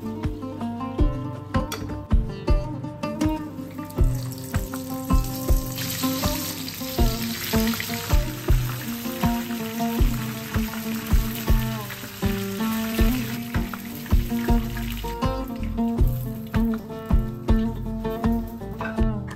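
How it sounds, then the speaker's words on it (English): Prawn spring rolls and homemade cutlets deep-frying in oil until golden brown, a constant bright sizzle running beneath a loud, steady rhythmic backing beat. "Fry till golden brown."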